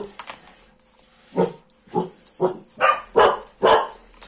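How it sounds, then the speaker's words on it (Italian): Dogs bark nearby in a home, with a run of about six loud, evenly spaced barks that grow stronger toward the end, preceded by a few softer yaps. "ci sono i cani"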